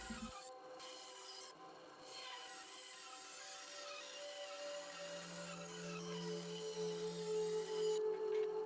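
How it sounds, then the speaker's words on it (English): A bandsaw cuts poplar wood shaped for a handmade crankbait lure, giving a steady rasping, rubbing cut with a rising whine toward the end, close and moderately loud, with no talking. "Then we'll take it to the bandsaw and cut the shape."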